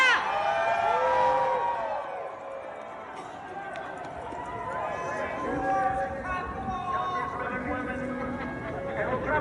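A large crowd at a Trump rally cheers and whoops loudly, with shouting voices and a steady roar of many people, close and sustained throughout.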